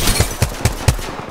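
Four evenly spaced gunshots in Apex Legends crack loudly and close in quick succession, a short rhythmic burst with no talk.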